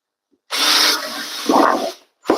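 A power drill whirs into material in a sustained burst, its pitch shifting as it bites, then stops briefly before starting again.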